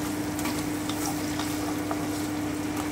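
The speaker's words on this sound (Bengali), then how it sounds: "এবারে আমি টমেটোটা দিয়ে দিচ্ছি। খুব ভালো করে একটু ভেজে নিচ্ছি।" Tomatoes fry in a pan for a moong dal with fish head, making an even, continuous sizzle with faint crackles over a low steady hum and no talking.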